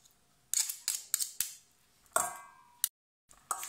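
A knife cuts an avocado into small pieces for guacamole, making a run of crisp, close cuts and taps at irregular intervals, with a brief silent gap before a final cut.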